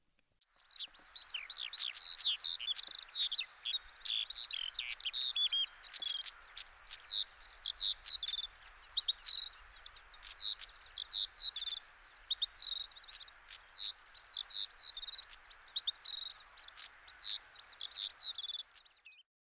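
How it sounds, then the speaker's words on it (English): A skylark in the Orkney Islands pours out an unbroken high, rapid warbling song of trills and chirps that stays steady and fairly close for the whole stretch, with no voices. "Skylark, Laverock, Lavro,"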